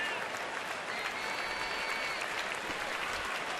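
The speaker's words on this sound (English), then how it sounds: "Nats fans clapping for an end to this inning." Fans at a Washington Nationals baseball game against the San Francisco Giants clapping across the stadium, a steady, distant wash of applause with faint crowd murmur underneath.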